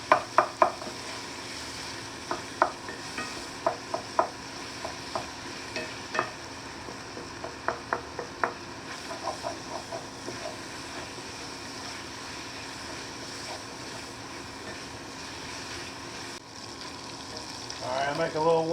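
Mountaineer brand sausage sizzles in a greasy pan with steady frying noise, broken by repeated sharp scraping and chopping clicks in the first half, then a continuous low sizzle with a louder stir near the end.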